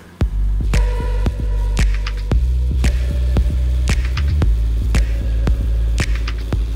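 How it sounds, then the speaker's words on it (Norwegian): Large snow blower clearing a mountain road at about 1500 meters near Dalsnibba, a heavy, steady low engine rumble close by, punctuated by repeated sharp knocks and clanks. "Det er jo en stor maskin som tygger snøven"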